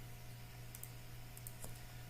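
Quiet computer keyboard typing a password, a few sparse key clicks in short bursts over a low steady hum, with no speech.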